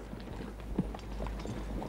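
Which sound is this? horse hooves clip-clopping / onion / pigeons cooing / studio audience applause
horse hooves clip-clopping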